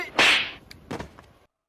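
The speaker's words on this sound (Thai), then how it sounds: "นี่แกกล้าตบฉันเหรอ" A sharp, loud slap during a school stage play, one crisp smack followed by a weaker second hit, with no talking.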